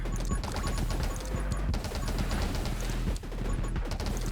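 Rapid, dense bursts from a fire cannon weapon in the video game 20 Minutes Till Dawn, a loud, continuous barrage of crunching impacts and shots that runs almost unbroken.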